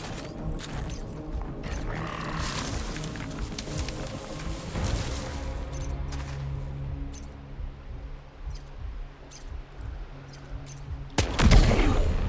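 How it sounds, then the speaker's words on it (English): Gunfire in a first-person video game, several sharp shots and short bursts scattered across the stretch with mechanical clicks, a louder cluster near the end, over a low game soundscape. "Enemy heard gunshot, but are not going to do anything about it."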